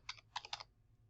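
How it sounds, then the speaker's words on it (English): Quiet, close typing on a computer keyboard: a few quick key presses in two short bursts over a low background hum, with no talking. "I'm going to type that in here."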